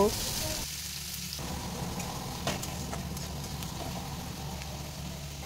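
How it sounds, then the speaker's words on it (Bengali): Onions frying in a pan, a dense continuous sizzle close up with a light stir or clatter, steady and loud with no voices. "এবার পেঁয়াজটা আমি তুলে দিলাম, দিয়ে পেঁয়াজটাকেও ভালো করে ভেজে নেব।"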